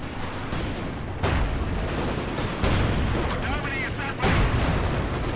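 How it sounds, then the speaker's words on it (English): Artillery fire in the Company of Heroes 2 battle game, with repeated heavy booms and bursts landing at intervals of roughly a second or more over a constant backdrop of battlefield gunfire. The shell impacts are loud and close. "Nice, I've got some sort of artillery popping in."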